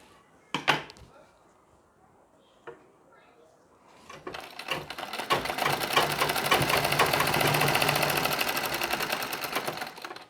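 A sewing machine stitches a Nauvari saree, first a few clicks and knocks near quiet, then a fast, steady mechanical whirr that builds and runs close for several seconds before stopping.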